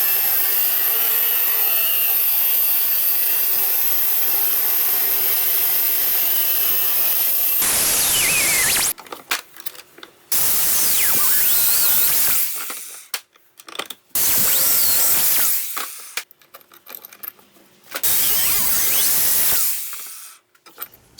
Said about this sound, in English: So I'm going to use my angle grinder, cut the bolts off